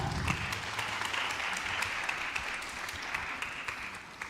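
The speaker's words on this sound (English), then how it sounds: "Round of applause once more." Conference audience applause in the main hall of a sustainability forum after panelists are introduced, a steady sustained clapping of a large crowd at moderate level, continuing without talk.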